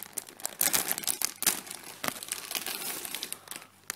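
A plastic Lego polybag for set 30474, a reindeer, is torn open and handled. The loud, close crinkling and crumpling comes in irregular bursts, with no voices.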